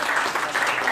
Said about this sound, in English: round of applause for Abdulrahman for coming